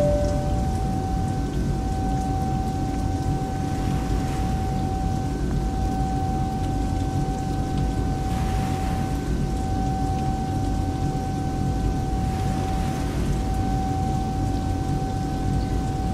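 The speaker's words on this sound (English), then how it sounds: "Rain's coming down on the aircraft" Steady rain drumming on an Airbus A320 airliner in a flight simulator game, a dense continuous hiss with faint cockpit tones running throughout, no talking.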